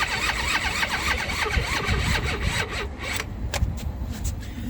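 An Eaton Beamer Matrix 2 scooter's electric starter cranks on a weak, dying battery, giving a continuous strained grinding and whirring that slows and sputters near the end, close up and without speech.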